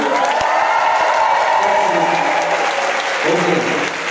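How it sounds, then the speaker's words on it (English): A concert audience applauds and cheers for a community choir, a loud, continuous roar of clapping and crowd noise held steady throughout, with a few voices mixed in. "the applause needs to get louder and louder"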